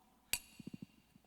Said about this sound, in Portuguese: as marteladas no pé,